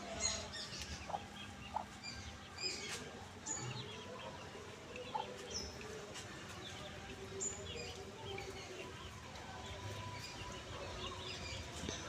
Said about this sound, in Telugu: కోళ్ళు